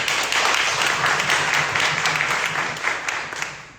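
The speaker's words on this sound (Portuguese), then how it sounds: "Mais uma salva de palmas para ele, por favor." A moderate round of applause from an audience at a history event welcoming an archaeologist, steady clapping that gradually thins out toward the end.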